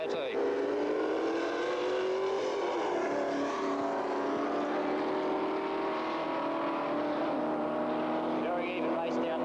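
Ford 351 and 302 V8 drag cars racing side by side down the strip, their engines droning steadily with rising revs and gear changes, heard at a distance under continuous race commentary.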